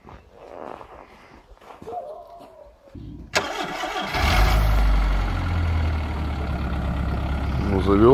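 A snow-covered 2003 VW Golf in winter cranks briefly, then its engine catches and settles into a steady idle, close by, with faint talk before the start.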